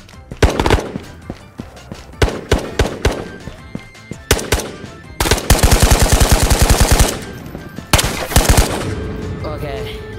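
Gunfire in the video game Ghosts of Tabor: loud, sharp single shots and short bursts ring out early, then a sustained automatic burst rattles for about two seconds, followed by more rapid fire, all close and prominent.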